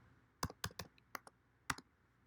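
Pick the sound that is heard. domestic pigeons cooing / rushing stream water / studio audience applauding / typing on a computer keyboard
typing on a computer keyboard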